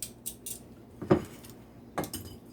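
Crisp fried Buffalo chicken wings being moved about, with two sharp clattering knocks against a bowl or utensils over faint background noise.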